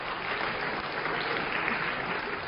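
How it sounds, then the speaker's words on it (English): A lecture-hall audience at a university game theory class claps for two student game winners, a dense, steady round of applause filling the room at an even level throughout. "So a round of applause for these 2."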